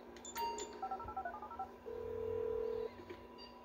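A phone in the video game GTA 5 dials out, a quick run of short touch-tone beeps followed by one longer tone, clear and moderately loud over faint background.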